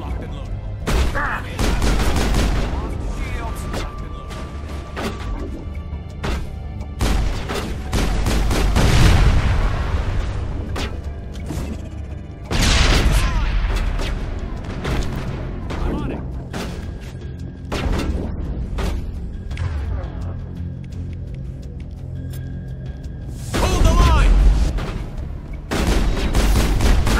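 Pistol gunfire in the Mass Effect video game for Xbox 360, repeated loud sharp shots in bursts and volleys, some clustered rapidly, with booming impacts between them and brief voices in the gaps.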